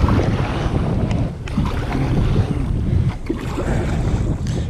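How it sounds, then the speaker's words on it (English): Wind gusts roar steadily across the mic on Lake Hickory while bass fishing from a boat in December, a loud continuous rush with faint water movement underneath. "I don't want to fight the wind all day"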